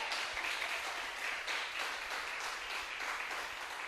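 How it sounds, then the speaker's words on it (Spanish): Church congregation at a Thursday service clapping together, a soft, distant and steady patter of many hands with a faint rhythmic pulse and no voices over it. "Aplauda al Señor en esta hora."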